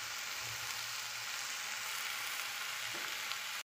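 Bottle gourd sabzi with turmeric and salt sizzles steadily in a pan as it is stirred, a close, even frying hiss that runs throughout and cuts off abruptly at the end.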